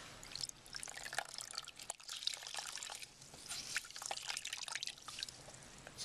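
Water trickles and splashes close by as a hand is wetted in a basin during a hand and nail care session, with busy, irregular dripping and no talk.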